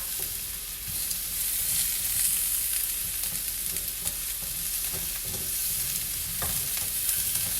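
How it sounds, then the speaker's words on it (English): Okra and pineapple sizzle steadily on a grill, a constant bright hiss with small pops and crackles running through, close and fairly loud, with no voices. "And now I'm grilling some."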